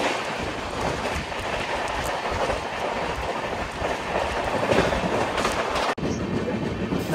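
Shantiniketan Express passenger train running past a rail gate between Guskara and Bardhaman, a steady loud roar of wheels with clickety-clack rhythm throughout, heard close by.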